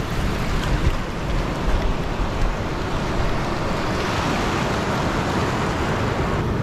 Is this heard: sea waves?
yes